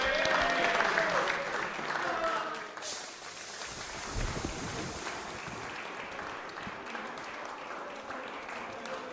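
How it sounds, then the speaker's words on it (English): Audience applause for a teenage trophy winner at a finals-night event, a steady broad wash of clapping that runs the whole time, with crowd noise and voices mixed in and a brief swell near the middle. "His proud mum clapping along."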